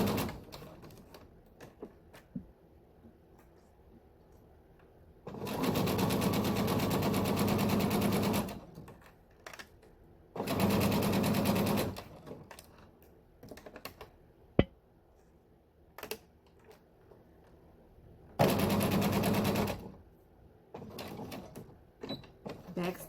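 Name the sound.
sewing machine sewing a zipper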